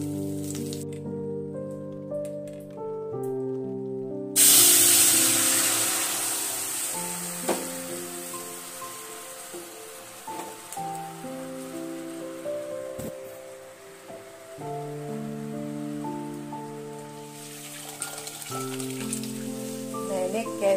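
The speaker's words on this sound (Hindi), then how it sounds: "फटाफट से मैं दाल में छौंक लगा देती हूँ।" Spices tempering in hot oil for dal in a home kitchen, a steady broadband sizzle and crackle that starts abruptly and runs continuously, with music playing underneath throughout.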